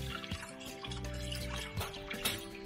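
Chicken livers are rinsed under cold running water, giving a soft trickling and dripping flow that continues at moderate level, close by, with no talking.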